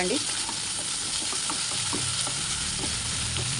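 Onions and curry ingredients frying in a pan for chicken fry piece biryani, a loud, steady sizzle with soft stirring scrapes throughout, no speech.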